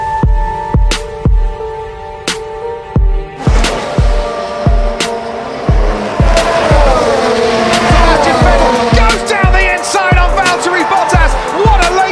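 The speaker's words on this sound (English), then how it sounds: "Sebastian Vettel to retake the lead of the British Grand Prix." Formula 1 race cars at the British Grand Prix pass in a rapid series of sharp, loud engine bursts, with a dense roar and rising engine whines building toward the end.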